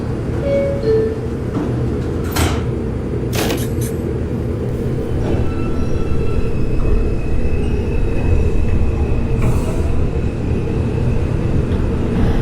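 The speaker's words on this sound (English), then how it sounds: "This is an Eastchester bound 5 local train." An NYC Subway R142 train on the 5 line runs in the OpenBVE train simulator game, a loud steady rumble of wheels and motors throughout with brief squeals and clanks, and no talking.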